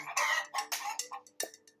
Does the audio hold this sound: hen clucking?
yes